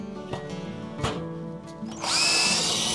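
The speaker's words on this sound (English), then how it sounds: "I just got my cordless drill, guys. I'm gonna come in here and put it in reverse." Cordless drill whirring in reverse while loosening nuts on a Weber kettle grill, a pulsing motor tone with brief grinding bursts, ending in a louder, rising high-pitched spin-up.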